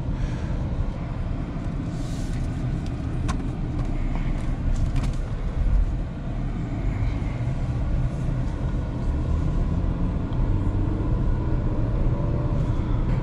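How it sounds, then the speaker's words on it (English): Cabin of a 2022 Changan CS-85 luxury coupe SUV on the move, with a steady low road and engine rumble holding constant throughout and a faint bump midway, no talking. "So now driving the CS-85."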